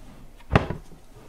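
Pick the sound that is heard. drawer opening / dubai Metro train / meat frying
drawer opening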